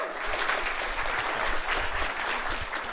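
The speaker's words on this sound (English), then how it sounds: "Everyone give a round of applause." Audience applause fills a conference hall at an AI engineering event, a steady, dense wash of clapping that holds loud and even for the whole stretch, with no voices standing out.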